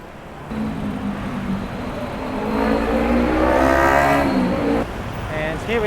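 Traffic on a main road in Bangkok, with engines revving and vehicles passing close by, building to a loud roar in the middle before easing; a voice talks over it.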